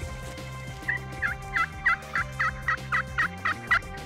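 Wild turkey gobbling in the field comes as a rapid series of about a dozen loud, evenly spaced sharp notes, close and with no talk.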